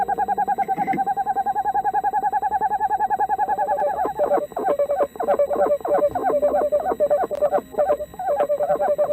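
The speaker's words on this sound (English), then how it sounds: "And for the casual onlooker, owls can seem downright alien. For instance, listen to this." An owl giving a long rapid series of hooting, trilling call notes, steady at first and then breaking into pulsed repeated hoots, close and prominent against a quiet night background.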